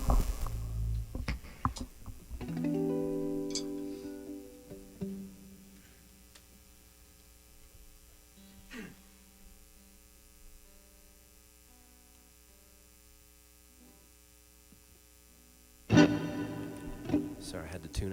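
A guitar being tuned: a few sparse plucked notes ring and fade, with long quiet gaps under a steady electrical hum, then a louder burst of strummed strings near the end.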